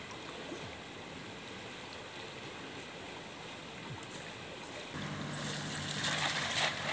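Water runs from a drainage pipe beside a rural pond or canal, a faint continuous trickle and gurgle that grows louder and fuller toward the end.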